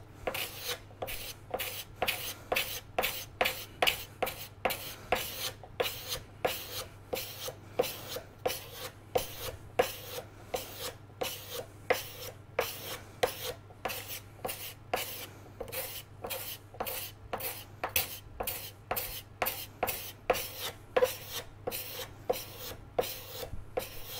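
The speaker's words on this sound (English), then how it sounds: "So now I'll get a card scraper and I'm going to pull those." Card scraper pulled across hand-carved wood in steady strokes, a regular series of dry rasping scrapes repeating rapidly and evenly, close and fairly quiet with no talk.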